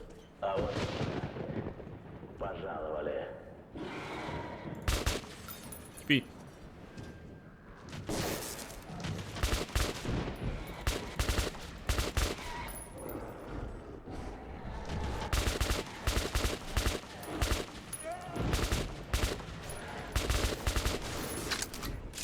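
Repeated gunfire from a loaded weapon in the post-apocalyptic shooter Metro 2033, loud dense bursts and rapid shots packed closely together, mixed with crashes and game ambience across the whole stretch.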